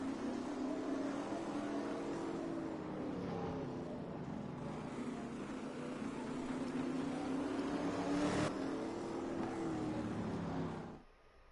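Sprint car engines roar around a short dirt track in the World of Outlaws racing video game. A continuous, loud droning whine rises and falls steadily, then cuts off abruptly at the end.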